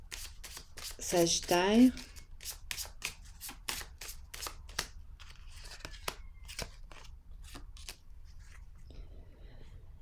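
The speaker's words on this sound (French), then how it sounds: "Je vais déposer une carte sur réconciliation." Tarot cards are shuffled and laid down close by in a quiet room, making a brief riffling burst followed by a series of crisp, separate taps and slides, while someone speaks softly.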